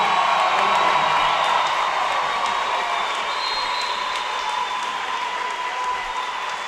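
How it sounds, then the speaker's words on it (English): Crowd applauding and cheering in an arena at an NCAA Division II regional college basketball game, a continuous broad wash of clapping with scattered whoops that stays loud and steady throughout. "So Bonifant will get a well-deserved applause here"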